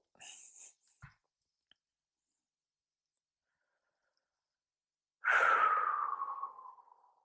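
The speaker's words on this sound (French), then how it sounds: "On souffle, on inspire, on expire." A person breathes during a morning exercise routine: a few soft, brief breaths near the start, then a long audible exhale that fades out after a pause of silence.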